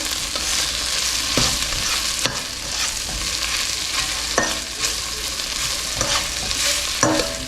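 Salna masala with curry leaves sautéing in a pan, with a continuous loud sizzle and repeated scraping stirs at an uneven rhythm, close by with no voices.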